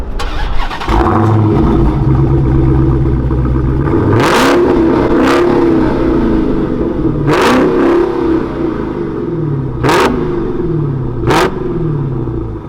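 A Hellcat-swapped Chrysler 300 with a mid muffler delete cranks and settles into a loud, rumbling idle, then gets revved sharply about five times, each throttle blip roaring through an open exhaust.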